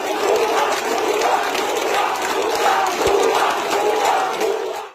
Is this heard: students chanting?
yes